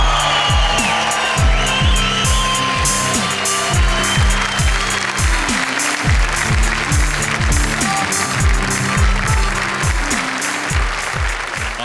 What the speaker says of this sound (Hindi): आपकी तालियां सुनकर